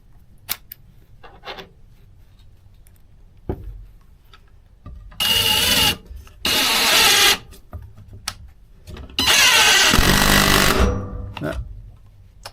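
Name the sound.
Craftsman V20 cordless impact driver driving a screw until it strips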